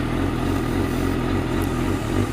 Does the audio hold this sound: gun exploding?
no